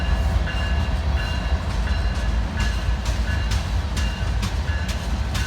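A Canadian National freight train rolls past close by, its steady heavy rumble and rail clatter running continuously, with no voices.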